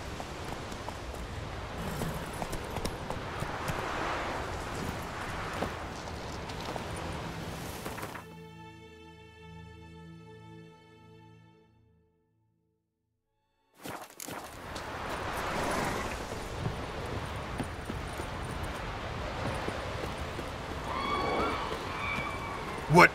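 Hoofbeats of Roach, the horse in The Witcher 3: Wild Hunt, thudding in quick rhythm under game sounds and voices, broken by a few seconds of tonal music and near-silence before the hooves and ambience resume, ending on a louder thump.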